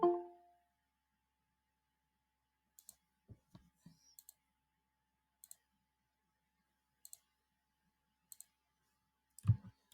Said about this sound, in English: click on add button